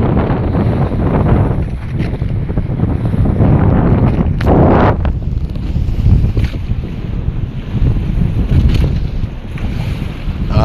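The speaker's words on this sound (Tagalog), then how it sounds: "kusog ang hangin" Strong wind roars steadily against the microphone, buffeting loudly without pause, with water and surf noise churning underneath.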